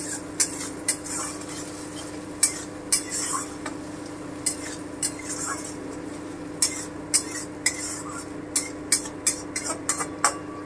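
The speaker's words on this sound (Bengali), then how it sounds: "দিয়ে আমি আর একটুখানি ভেজে নিচ্ছি।" A spoon stirs chilli paneer frying in a pan, sharp metallic scrapes and clinks recurring every second or so over a steady low sizzle, close and fairly quiet, with no talk.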